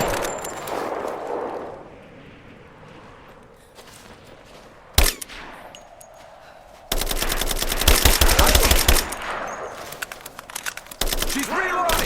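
Rapid video-game gunfire in a Rise of the Tomb Raider firefight, loud bursts of automatic shots in dense volleys with a single sharp crack earlier, over quieter ambient stretches and shouted voices.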